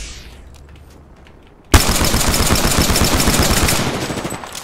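Video game gunfire erupts suddenly after a quiet stretch, a loud, sustained burst of rapid automatic shots that continues to the end, with no voices over it.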